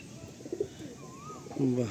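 A Madrasi pigeon coos low and close, its rolling call swelling near the end over a soft murmuring background.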